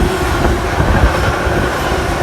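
A Class 66 locomotive hauling a Freightliner freight train southbound at high speed on the West Coast Main Line, a loud, close, continuous rumble with steady wheel noise and no talk.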